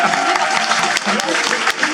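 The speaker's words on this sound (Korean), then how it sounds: "우리 사역반 22분에게 한 번 더 큰 박수로 격려 부탁드립니다." Steady clapping from a church congregation fills the room during a Wednesday service, dense and continuous, with a voice faintly underneath.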